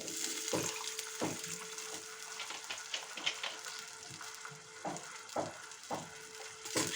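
Water poured into a sauce frying in a pan for a paneer dish brings up a soft, continuous sizzle and bubbling, broken by small clinks and taps, all fairly faint and close by.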